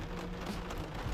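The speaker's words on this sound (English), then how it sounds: "You hear the rain?" Rain patters on a truck during solo camping, a soft steady hiss of drops on the surface, faint and continuous with no voices.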